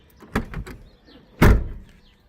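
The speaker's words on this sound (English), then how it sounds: "You can hear the doors shut." A 1966 Ford Mustang door shuts twice with solid thuds, first a softer clunk with a brief rattle, then a louder, heavier slam a second later, close by and with no one talking.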